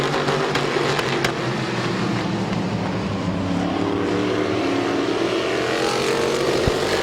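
Race cars roaring around Midvale Speedway, a dense, continuous engine drone from several cars running close together, loud and steady with no speech.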